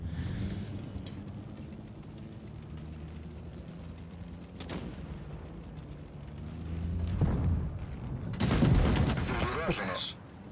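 A machine gun on the FVE Defender tank fires in a video game, with bursts of rapid shots over a rumbling battle background and a loud burst near the end. Someone talks over part of it.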